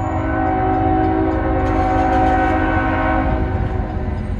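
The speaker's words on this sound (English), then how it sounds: "I'm actually catching a CSX in the middle of the daytime for once on this line." A very long CSX freight train rolls past close by in Marietta, Georgia, its loud, continuous rumble and clatter carrying a sustained horn blast throughout.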